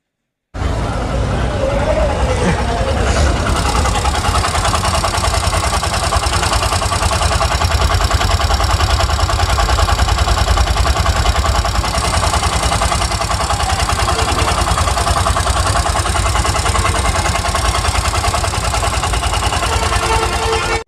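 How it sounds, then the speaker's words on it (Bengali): Bajaj CNG auto-rickshaw with a recently rebuilt engine, running steadily: a close, continuous mid-pitched putter with rattly clatter that starts abruptly and holds an even idle throughout. "ভিউয়ার দেখলেন গাড়িটার ইঞ্জিনের সাউন্ড খুব সুন্দর আছে।"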